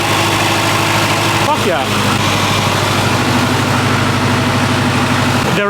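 A damaged Honda Type R engine idles with a loud, harsh mechanical rattle, close and continuous, while a voice cuts in briefly over the clatter.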